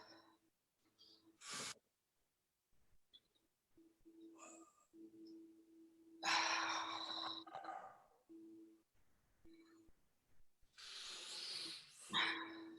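Slow, deep breaths in and out during a seated chair fitness exercise: a few soft breathy rushes spaced several seconds apart, faint and close over a low steady hum.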